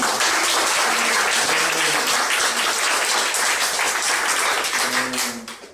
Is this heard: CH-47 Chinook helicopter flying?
no